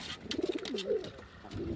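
Soft, low cooing from pigeons, a few rolling coos in quick succession, fairly near and quiet.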